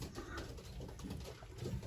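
Young 2021 racing pigeons on their first days out, soft low cooing close by against a murmuring background, faint and continuous over the brief span.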